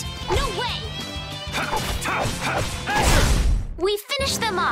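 Barking from Rapide, a dog in the game Tales of Vesperia, sounding during loud battle action with crashing hits, swooshes and character voices, the yips and barks blending into the dense, busy mix.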